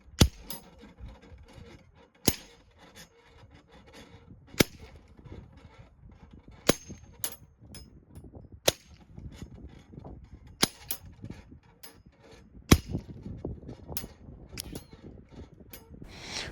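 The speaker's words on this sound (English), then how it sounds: "you're going to see these spinners start to spin funny and bang into each other" Metal target spinners on a stand, clanging into each other in irregular sharp hits spaced a second or two apart, with scraping and rubbing between strikes and no talk.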